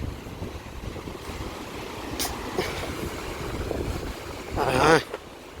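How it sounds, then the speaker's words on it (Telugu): Strong waves roll in at Thotlakonda beach as a continuous rushing wash, and a louder surge swells near the end before easing off. A faint voice can be heard in the background. "అలలు మాత్రం గట్టి వస్తున్నాయి"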